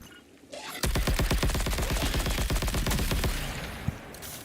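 Rapid-fire gunshots in the game Marathon begin after a short lull, a fast rattling burst of evenly spaced shots that runs for about three seconds before stopping, loud and close.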